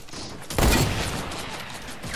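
Burst of automatic gunfire in Fortnite, a loud broadband volley starting abruptly and sustained as dense rapid fire to the end, with no voices.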